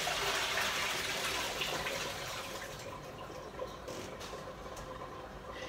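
Rinse water poured off finely sliced potatoes, a loud, steady rushing splash that gradually thins and quiets into a lighter trickle, heard alone.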